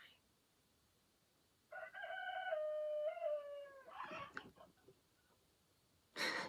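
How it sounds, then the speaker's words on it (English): A rooster crows once in a clear, drawn-out cock-a-doodle-doo at moderate distance in a quiet setting, followed by a few short clucks and a sharp burst of noise at the end. "we've had lots of crowing"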